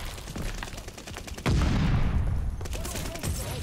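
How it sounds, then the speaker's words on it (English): Nikita AVT rifle in Call of Duty Vanguard multiplayer, a rapid burst of very fast automatic fire that erupts loudly midway after quieter game noise, then trails off into ambient rumble. "Gun shoots way too fucking fast."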